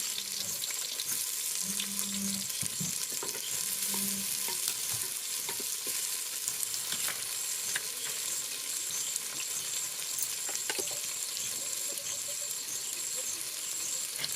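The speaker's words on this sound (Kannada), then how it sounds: "ಇವಾಗ ಒಂದೆರಡು ಈರುಳ್ಳಿ ಕಟ್ ಮಾಡಿರುವಂಥದ್ದು ಫ್ರೈ ಮಾಡ್ಕೊಳ್ಳೋಣ" Chopped onions fry in a pan for village-style country chicken sukka, giving a continuous close sizzle with occasional stirring scrapes and a few brief squeaky tones early on, steady and without speech.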